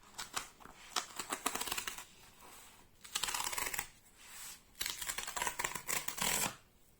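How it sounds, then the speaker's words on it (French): A cardboard book package is ripped open along its tear strip, with repeated bursts of crisp, crackling tearing broken by short pauses. "Allez, commençons par ouvrir avec la tirette."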